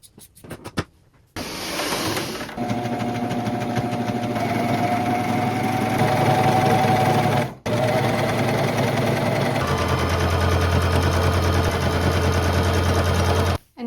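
A sewing machine top stitching around the top edge of a thrifted fabric garment, running steadily and close for most of the stretch with a short pause midway, its motor hum and rapid needle rattle prominent.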